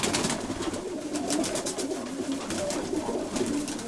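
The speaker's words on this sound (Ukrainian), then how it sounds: "білохвоста голубка, примачечка." A white-tailed pigeon coos close by, repeated soft, throaty rolling calls that continue steadily over a faint rustling background.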